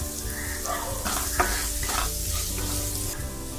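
Sliced onion with a pinch of salt and turmeric fries in a hot pan while a spoon stirs it, giving a steady close sizzle broken by scraping strokes.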